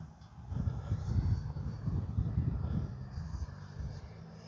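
FMS Integral 80mm electric ducted-fan RC jet flying overhead, a loud steady whooshing rumble that swells and fades as it passes, with a thin high whine above.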